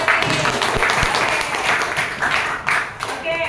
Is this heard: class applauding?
yes